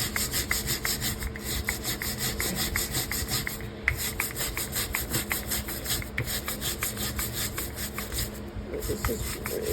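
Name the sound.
knife scraping caked gunk off cast iron grill pan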